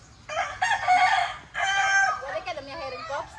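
A rooster crows loudly and close by, two long drawn-out calls followed by a shorter broken one, with light background noise.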